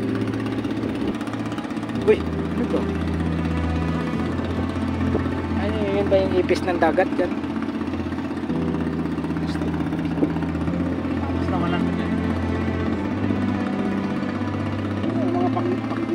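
Boat engine of a vessel towing a barge at sea, a steady mid-pitched drone running throughout with slight shifts in tone, under frequent casual talk and occasional clatter nearby.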